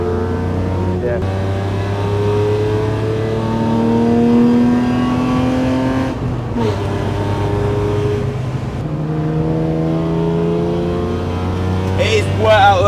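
A BMW E36 on a wet race circuit, its engine droning and rising through the gears with shifts between pulls, loud and close from inside the car with continuous road and spray noise.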